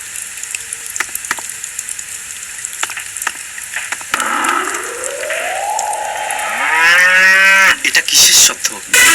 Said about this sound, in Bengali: আর গরুটা চিল্লাচ্ছে কেন এইভাবে?